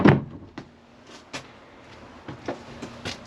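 A large pull-out storage drawer in a 2024 Forest River Cherokee Wolf Pup 17JW travel trailer is yanked open with a sharp knock, followed by a few softer thuds and rattles, close by and without speech.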